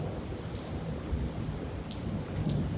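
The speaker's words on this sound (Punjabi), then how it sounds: "ਇੱਧਰ ਦੇਖੋ ਮੀਂਹ ਕਿੰਨਾ ਪੈ ਰਿਹਾ" Heavy rain pours steadily, a dense continuous hiss and patter with no voices, the downpour loud and close throughout.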